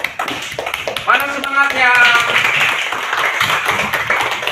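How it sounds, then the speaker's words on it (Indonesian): Classroom students clapping hands together, a short burst of quick claps under a teacher's voice and chatter, close and moderately loud. "Tepuk tangan buat teman-temanmu yang sudah"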